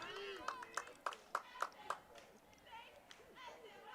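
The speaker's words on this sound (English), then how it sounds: "clapping on her teammate over there" About six sharp claps in a quick rhythm ring out from players at a college softball game, then fade as voices chatter in the background.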